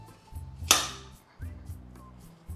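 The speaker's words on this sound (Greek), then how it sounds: "Και αρχίζουμε και τις κόβουμε φέτες." A knife slicing apples into thin half-centimetre slices while making a pan-cooked apple pie gives one sharp, close cut against the board, with soft talking around it.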